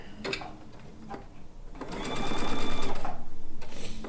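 A sewing machine stitches quilt fabric, first with a few short close bursts, then a longer, steady run of fast rhythmic stitching that grows louder.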